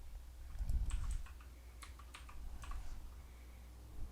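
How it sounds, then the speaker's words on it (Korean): Several light keystrokes on a computer keyboard, including the Enter key, sound as soft close clicks in a few brief clusters over a quiet room hum. "엔터 눌러주시고"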